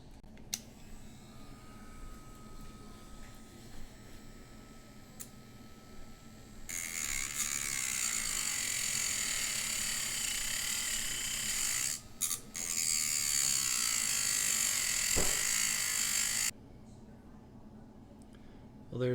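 A small rotary tool cutting the legs of a Matchbox die-cast metal casting from a 19a MG Midget model, a steady high buzzing grind for about ten seconds with a brief break midway, fairly quiet.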